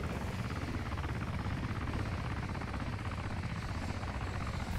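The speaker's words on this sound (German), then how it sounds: "Hört sich an wie ein Heli." A helicopter's rotor thumps steadily at a distance in the video game DayZ, a continuous low throbbing drone.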